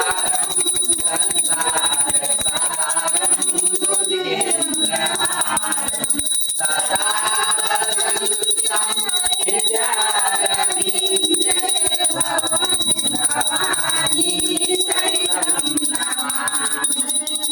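A hand bell rings continuously with a steady metallic tone during a Hindu Satyanarayan puja, under loud group chanting and singing throughout.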